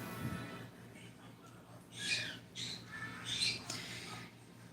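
Several short, shrill squawks from birds close by, coming in bursts over a low background hum, with quiet pauses between calls.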